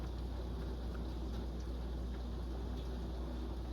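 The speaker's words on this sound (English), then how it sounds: "Oh, that's our air conditioner." An outdoor air conditioner unit drones with a steady low hum while rain hisses all around it during a thunderstorm, constant and unbroken with no voices.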